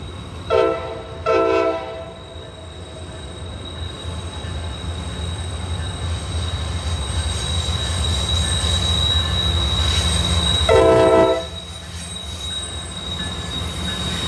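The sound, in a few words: intermodal freight train passing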